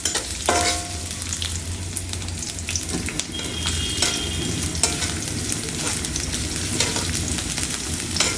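Garlic and onion sizzle and crackle steadily in hot oil for a Bengali drumstick-leaf (sajna pata) stir-fry, with occasional stirring scrapes and clinks close by, no talking.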